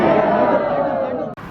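A packed crowd at a temple aarti ceremony makes a brief, loud burst of massed voices and chanting-like babble close by, ending abruptly.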